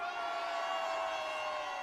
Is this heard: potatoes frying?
no